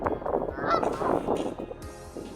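Several geese with goslings honk in a dense, overlapping cluster nearby outdoors, a steady chorus of nasal calls for a couple of seconds.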